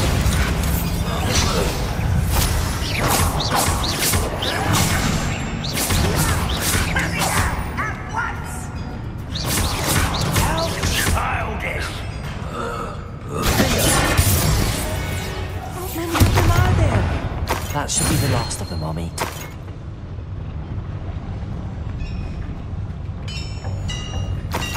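Confringo blasting spells from Hogwarts Legacy combat burst out in repeated loud, fiery blasts, layered over busy battle effects, music and a voice.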